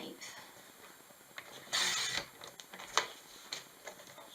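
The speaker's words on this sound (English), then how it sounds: "I'm going to take my trimmer and I'm going to cut this at 6" A paper trimmer slices a sheet of Whisper White cardstock with one short, crisp sliding cut, followed by a few light clicks and taps, quiet and close.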